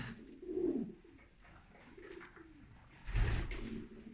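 Pigeons in a coop coo softly in low, rounded phrases, with a stronger burst of cooing near the end over a quiet indoor background.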